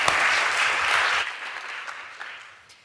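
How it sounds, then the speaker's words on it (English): Applause from a symposium audience for a panel of speakers, a dense burst of clapping that swells at first, then thins out and fades across a few seconds. "a big round of applause to all our panelists"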